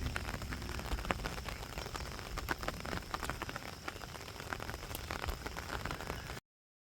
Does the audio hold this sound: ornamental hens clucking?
no